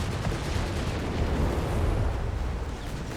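Continuous heavy artillery bombardment in the Company of Heroes 3 real-time strategy game, a dense, steady roar of distant blasts blending into one rumbling wash with no distinct individual explosions and no talk.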